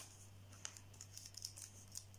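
Scissors snip through paper while a paper house is cut out, a few quiet, scattered crisp cuts over a steady low hum, no talking.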